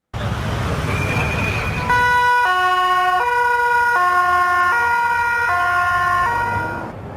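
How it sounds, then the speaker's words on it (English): A loud police siren wails in Mannheim, Germany, its two tones alternating steadily, close by, over a low rumble of traffic before fading slightly at the end. "Those siren sounds, the police sirens"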